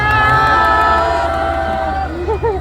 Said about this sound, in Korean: 아쉬운 마음 한번 우리가 환호성으로 표현해 보도록 하겠습니다